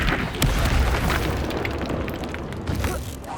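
A loud, booming blast from the Confringo spell in Hogwarts Legacy, a heavy rumbling explosion with crackling bursts that stays dense and continuous, with no voice heard.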